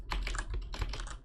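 A computer keyboard being typed on at close range gives a quick burst of several clattering keystrokes in an uneven rhythm, with no voices.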